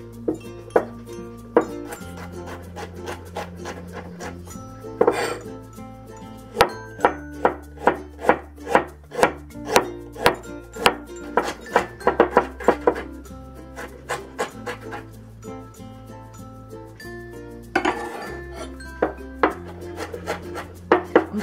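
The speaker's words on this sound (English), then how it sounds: "let's mince the ginger and garlic" Ginger and garlic are minced with a knife on a cutting board, rapid close rhythmic chops in bursts with short pauses between, over a steady low background tone and no voices.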